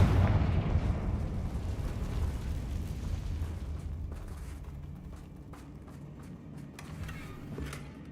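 A Confringo blast spell explodes in the Hogwarts Legacy video game, opening with a loud, broad burst that rumbles on and slowly fades, with smaller crackles and pops scattered through the tail.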